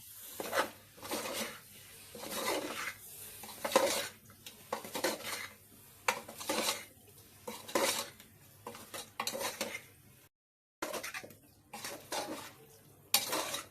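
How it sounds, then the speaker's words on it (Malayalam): Chicken pieces stirred into masala in a metal pot for a chicken curry, repeated scraping and clattering strokes of a ladle against the pot in an uneven rhythm, with a light sizzle underneath and a brief pause. "ഈ മസാലയിൽ ഇട്ടൊന്ന് നന്നായിട്ട് ഇളക്കി കൊടുക്കാം."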